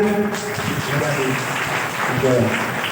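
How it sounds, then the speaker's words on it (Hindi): Audience clapping at a Shiv Mahapuran religious discourse, a dense continuous patter of hands at close, fairly loud level with some voices and tonal sounds running underneath. "ताली बजाए, अच्छी बात है, बजा दो थोड़ा सा, बजा दो"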